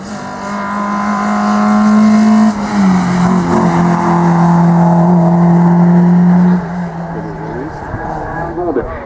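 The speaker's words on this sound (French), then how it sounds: "La 205 GTI est à nos côtés." A Peugeot 205 GTI race car climbs at a hill climb event, its engine roaring loudly and holding steady notes with a gear change partway, then fading toward the end.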